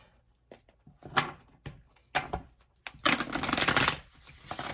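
Tarot cards are shuffled by hand in a series of soft riffling bursts, several short ones and then a longer, denser run, close and fairly quiet with no talking.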